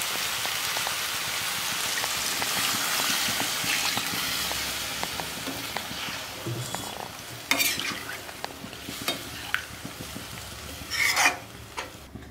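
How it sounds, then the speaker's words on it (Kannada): Chicken curry with water just added is stirred in a pan, a steady wet swishing and gentle sizzle, close and fairly loud, with sharper spoon scrapes and clinks against the pan toward the end; no talking. "ಅದರಲ್ಲಿ ನೀರು ಹಾಕಿ ಮಿಕ್ಸ್ ಮಾಡ್ಕೊಳ್ಳೋಣ."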